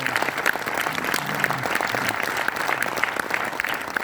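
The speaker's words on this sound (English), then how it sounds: "a round of applause to Mr. Laszlo" Audience at a business leadership camp applauds in a sustained, moderately loud burst of clapping with faint voices and cheers mixed in throughout.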